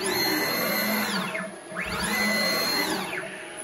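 A 6040 CNC machine running at 500 inches per minute, its stepper motors whining up and down in pitch through two rapid moves over a steady motor hum, close and loud with no talk.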